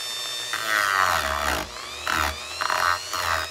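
A DoIt rotary tool sanding wood, whining at high pitch in short bursts, with the pitch dropping as it bogs down under load, close and fairly loud.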